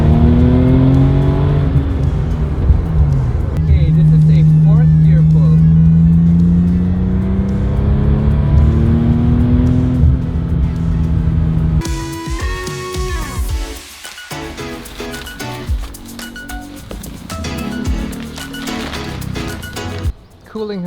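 A turbocharged car engine revs hard and accelerates on 1.2 bar of boost, its pitch climbing through gears, loud and close, then shifts to a busier mechanical roar with whirring.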